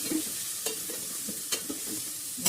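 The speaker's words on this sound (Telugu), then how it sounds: "ఇప్పుడు మనం దీంట్లో ములక్కాడ వేసుకుందాం." Drumsticks being stirred in a pan of frying masala for a drumstick and tomato curry, with a steady sizzle broken by a few sharp utensil scrapes and clinks, close and alone.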